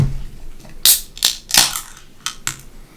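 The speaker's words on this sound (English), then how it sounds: "let's go ahead and crack this thing open and see what it's got in store." Opening an Empire Brewing Co. Black Magic Irish Coffee Stout, whiskey barrel blended: a handful of sharp, close clicks and cracks spaced irregularly over a few seconds.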